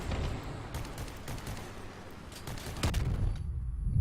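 Shotgun blasts fired in the Crossout vehicle combat game, heavy booming bursts in a rapid noisy barrage with a strong second report near the end, no voices.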